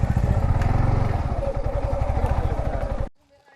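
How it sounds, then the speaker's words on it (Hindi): A motorbike engine idles with a rapid, throbbing chug as the bike is parked in a forest, loud and close, then cuts out abruptly near the end, leaving near silence. "बाइक को यहाँ पे खड़ा करना पड़ेगा।"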